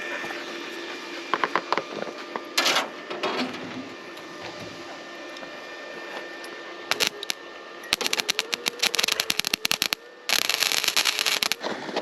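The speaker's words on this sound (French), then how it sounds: "Je vais souder mes trous là" A MIG welder fills holes in the trunk of a Rover P5B V8 under restoration, giving bursts of harsh, rapid crackling and buzzing. Short sputters give way to longer, denser runs, set against a steady workshop hum.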